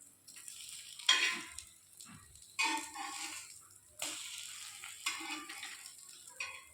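Potato and egg fry in a pan and are flipped: four or five separate bursts of scraping and sizzling, each rising sharply and then fading into a quieter simmer, heard close with no talking.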